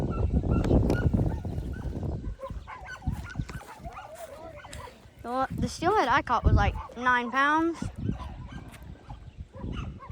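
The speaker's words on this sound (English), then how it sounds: "Oof, those dogs are really barking." Several dogs in a public park bark and yip repeatedly in loud, pitched bursts partway through, with someone talking before and after the barking.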